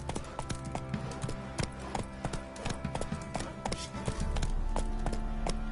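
In The Witcher 3, a horse gallops with a fast, steady clip-clop of hooves over continuous game music and ambience, the rhythmic beats loud and close throughout.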